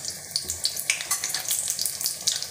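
Spinach pakoras fry in hot oil with a steady bright sizzle and fine crackling pops, close and continuous.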